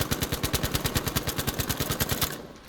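Rapid automatic gunfire aimed at a building in Battlefield V, a steady burst of about two dozen evenly spaced loud shots lasting over two seconds, then stopping.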